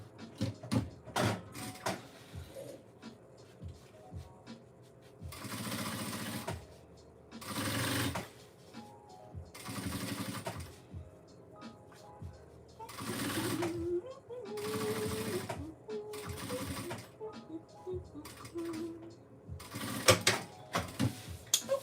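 A sewing machine stitching a handbag closed runs in several close bursts of rapid mechanical whirring, separated by pauses with light handling sounds and brief talk.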